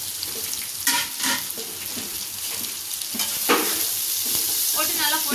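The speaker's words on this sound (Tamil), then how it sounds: "போட்டு நல்லா பொன்னிறமாக வர வரலையும் நம்ம வதக்கிக்கிறோம்." Onions and okra fry in oil for an egg and okra stir-fry, a loud continuous sizzle close up, broken by repeated scraping stirs and faint splashy clatter, with no speech.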